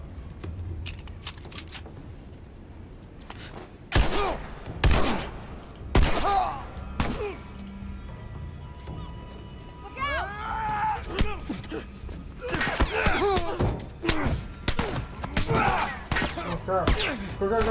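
Gunfire in The Last of Us comes as a series of loud, sharp shots spread through the clip, with excited voices talking between them.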